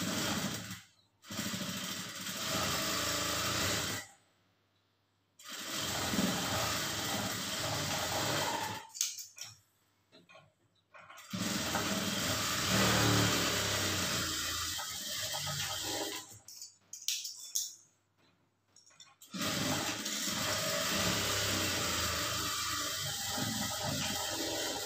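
A sewing machine stitches a plain blouse in bursts of steady mechanical whirring, broken by several short pauses, close up with no talking.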